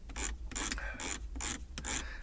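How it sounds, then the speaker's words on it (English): Rapid ratcheting clicks from a mouse scroll wheel, coming in quick bursts with short pauses, close by and fairly quiet with no talking. "clicking noise you hear is me turning the scroll wheel."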